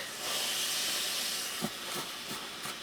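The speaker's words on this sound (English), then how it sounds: "I'm just holding it above and making my iron steam" A steam iron held above shrinking texture fabric releases a steady close hiss of steam, followed by a few soft bursts toward the end.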